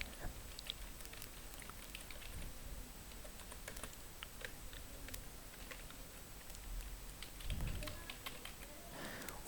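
Fingers tap keys on a computer keyboard while entering an email address into a seller account form, a light, quick patter of keystrokes throughout, close but quiet over a faint background hiss.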